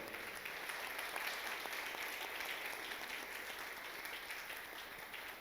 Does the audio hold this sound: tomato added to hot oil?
no